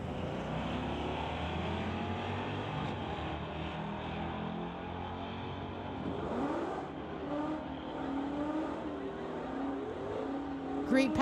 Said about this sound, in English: Mark Fiddler in the TCS lane, the 73 Camaro going against Damien in the 1988 Mustang